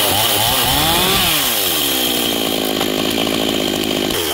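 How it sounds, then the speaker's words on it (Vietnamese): A G370 chainsaw with a new chain cuts through a yellow-flowered tràm (melaleuca) tree at Lạc Quới, its engine roaring loud and close and its pitch shifting as the blade bites into the wood, with no talking. "Máy cưa này là máy cưa G370 nha các bạn."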